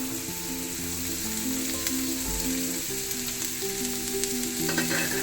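Chopped carrots frying in a pan for a chicken singara filling, a dense, steady sizzle with occasional stirring scrapes, close and continuous beneath quiet background music.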